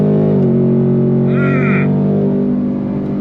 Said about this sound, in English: as I'm slowing down, that 10 speed is downshifting